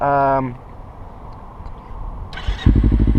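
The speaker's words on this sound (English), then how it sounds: "press the ignition, and the bike starts up" A motorcycle engine turns over and catches on the ignition, the starter's whir giving way to a loud, close, rumbling idle after a brief tone and a quiet pause.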